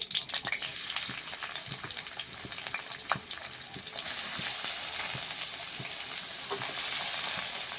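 Chopped onion and five green chillies frying in hot oil, a dense, even sizzle with occasional spatula taps early on, swelling to a louder steady hiss in the second half; no voices.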